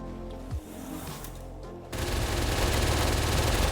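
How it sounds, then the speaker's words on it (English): A minigun opens up in Palworld, turning a quiet stretch into a sudden, loud, continuous stream of rapid gunfire that keeps going to the end. "And he's got the minigun."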